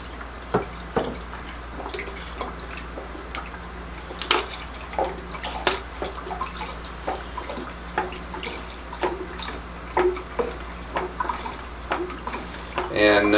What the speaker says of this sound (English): Now we're going to add 2 cups of lemon juice.